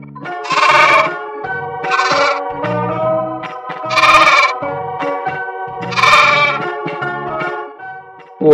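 A sheep bleats four times at roughly even intervals, each a loud, wavering, nasal cry with short pauses between, up close and alone.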